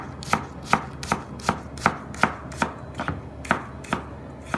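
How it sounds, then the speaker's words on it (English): A knife dices a shallot on a cutting board in quick, even chops, about a dozen crisp taps landing at a steady rhythm, close and clear with no talking. "you're going to go right down the line, making small cuts as you possibly can."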